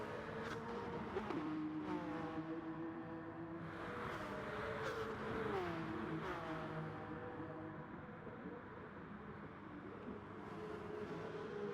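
Porsche race cars in a racing video game whine with high-pitched engines. Revs rise and fall in sweeping tones as cars accelerate and shift, and the sound stays fairly faint and steady, without voices.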